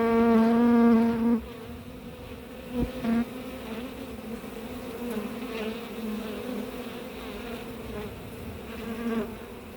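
Honeybee swarm being hived, a dense close buzzing of many bees that drones continuously, with a louder rising-and-falling whine from individual bees flying past near the start.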